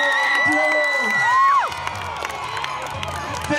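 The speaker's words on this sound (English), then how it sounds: "give a round of applause to Tyler and Dylan" Middle school crowd at an outdoor assembly cheers and whoops for a superhero stunt team, with loud bursts of shouting children's voices that peak early and then trail off into scattered calls.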